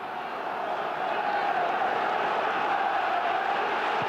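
Capacity football crowd of about 22,000 at Roker Park, Sunderland, during a Sunderland v Newcastle match: a steady, dense roar of voices that swells slightly and holds at full volume throughout.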